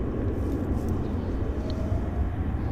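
An Air Canada Boeing 777-200 nosing onto runway 26 left at Vancouver's YVR airport gives a steady, loud, broad jet engine roar that holds constant, heard from a distance with no talk.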